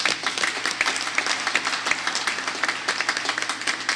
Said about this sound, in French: Nous battions applaudissements pour eux